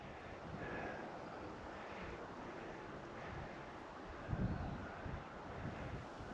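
Wind gusting across an open slope where a model glider is flown, a steady broadband rush buffeting the microphone throughout, with a brief stronger gust toward the end.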